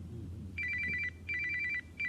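A telephone bell rings in repeated bursts of trilling, three rings over about two seconds with short gaps between them. It sounds close and clear above a low, steady background hum, and no one speaks.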